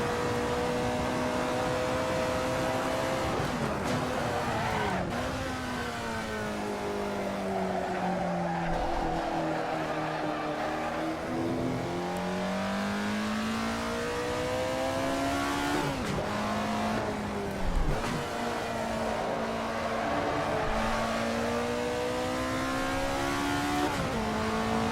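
Alfa Romeo 33 Stradale lapping Laguna Seca in Assetto Corsa, its engine revving up and down through the gears with repeated shifts and tire squeal in the corners, loud and steady throughout with no talk.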